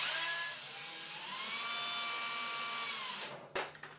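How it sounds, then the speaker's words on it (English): A power drill drives sheet metal screws through a half-inch lip on a return air shoe into a furnace body, a sustained whine rising and holding for about three seconds before cutting off with a few brief clatters. "you put screws in through the lip, this little half-inch lip, on the return air shoe,"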